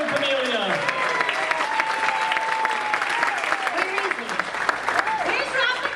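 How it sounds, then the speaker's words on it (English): A charity event audience breaks into sustained, dense applause mixed with some cheering, while a voice carries on talking over the clapping throughout. "Give a big round of applause for Camellia."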